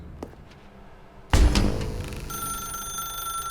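A telephone rings suddenly in The Stanley Parable: Ultra Deluxe, a loud bright bell tone bursting in after quiet room sounds and sustaining with a ringing electronic hum.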